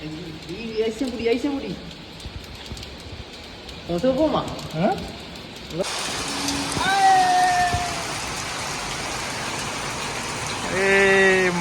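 Rain mixed with hail falls steadily, a dense broadband patter that swells after a quieter opening. Birds coo intermittently, and a person talks over it early on.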